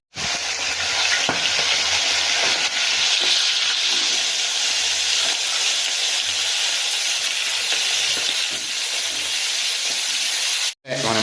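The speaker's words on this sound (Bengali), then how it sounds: "এবার মাছগুলো একটা একটা করে ভেজে নেওয়া হবে" Fish heads fry in smoking-hot oil in a Bengali home kitchen, giving a loud, steady sizzle and hiss that runs almost unbroken, with faint stirring clinks.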